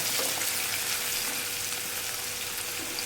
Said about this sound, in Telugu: నెక్స్ట్ పచ్చిమిర్చి ఉల్లిపాయ ముక్కలు వేసేసుకుందాం ఇది బాగా వేగాలి